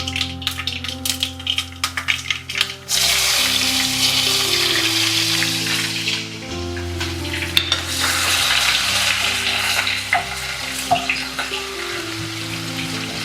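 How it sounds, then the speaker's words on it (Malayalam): Onions frying in hot coconut oil with popping mustard seeds, cooked for a kichadi made with curd-cured kondattam chillies: a loud, steady sizzle that jumps sharply after a few seconds and crackles on without a break. "കടുക് പൊട്ടി വരുമ്പോൾ നമ്മൾ ചെറുതാക്കി നുറുക്കി വെച്ച സവാളയും ചേർക്കാം"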